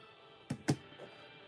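Wire cutters snip through memory earring wire, giving two sharp close clicks in quick succession, followed by a fainter third tick, in a quiet room.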